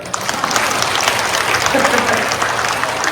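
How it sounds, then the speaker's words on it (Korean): A church congregation at a Catholic charismatic gathering breaks into applause, a dense steady wash of many hands clapping throughout, fairly loud and close with a faint voice mixed in. "박수 한번 쳐주세요."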